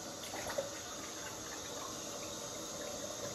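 Hot water runs from a tap into a small basin during a shaving routine, a soft steady trickle heard close up and alone for the whole stretch.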